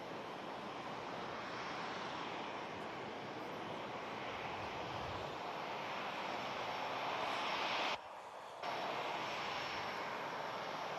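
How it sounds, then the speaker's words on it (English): A steady broadband roar of airliner engines taxiing at Manchester Airport fills the whole stretch, sounding fairly distant and constant, with one brief dropout partway through. "we also have the Qatar Dreamliner taxiing out for Doha as well."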